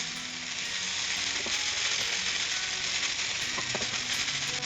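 Podi rice is stirred in a pan, a continuous dense scraping and rattling hiss with faint clicks from the utensil against the pan, steady throughout with no speech.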